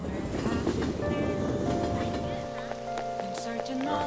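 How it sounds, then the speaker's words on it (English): Steady rain falling in the video game Persona 5 Royal, a continuous hiss that runs the whole time with tonal game music layered over it. "When's the rain gonna let up?"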